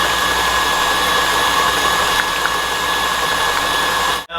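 An electric mixer whirring continuously as it blends brown sugar, sour cream and caramel sauce into a cheesecake filling, a loud steady motor hum that cuts off abruptly at the end.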